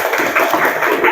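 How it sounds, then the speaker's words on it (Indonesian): A classroom group claps together, a dense, fairly loud patter of hands that runs steadily for about a second. "Let's we give applause for us."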